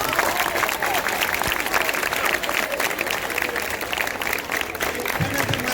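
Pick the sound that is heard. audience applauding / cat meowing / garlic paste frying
audience applauding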